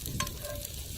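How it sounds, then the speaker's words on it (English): Chopped onion sautéing in hot bacon grease, a steady low sizzle and crackle with a brief scrape or stir near the start, close and continuous with no talk. "we are going to saute our onion in this bacon grease for a couple minutes"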